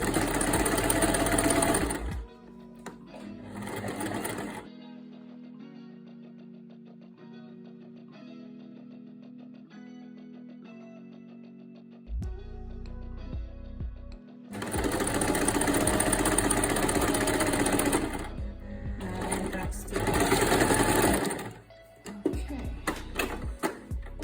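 Sewing machine stitching a straight seam in fabric and pivoting at a corner, with loud bursts of rapid needle stitching at the start and end and quieter pauses between.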